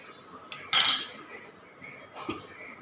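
A spoon stirs cloves and honey in a bowl, making a few clinks and scrapes, with one loud metallic scrape near the start and fainter taps afterward.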